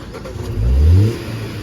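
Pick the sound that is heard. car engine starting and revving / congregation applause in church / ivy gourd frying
car engine starting and revving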